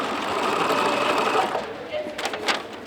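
Sewing machine backstitching a Tyvek hospital gown, a close steady whirring run that slows and stops near the end, with brief handling noises.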